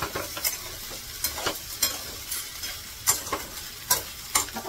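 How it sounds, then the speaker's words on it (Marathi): Green bean sabzi with potato stir-frying over high heat in a pan, a soft steady sizzle punctuated by rhythmic scraping stir strokes, close and without talk. "फास्ट गॅसवर पटकन 2 मिनिटांसाठी परतून घ्यायची पाहिजे."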